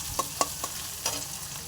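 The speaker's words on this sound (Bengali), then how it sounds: "ক্যাপসিকামগুলো দিয়ে দিল। এগুলো ভালো করে লাল লাল করে ভেজে নেবে।" Capsicum frying in a pan for chow mein, stirred with a few sharp scraping clicks over a steady soft sizzle, close by and alone.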